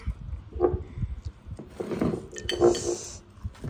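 Plates and bowls clink and knock softly at close range while steamed pork roll is served at a home snack table, with scattered light rattles and taps in a quiet room.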